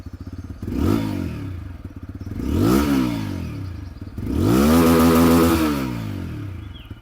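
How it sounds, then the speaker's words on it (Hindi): A TVS Apache RTR 160 4V motorcycle with an underbelly exhaust is revved three times from a throbbing idle, each blip rising and falling, the last held longest, loud and close with no talk. "ये दोस्तों आवाज़ आप लोगों ने यहाँ पर अपाचे की भी सुन ली है।"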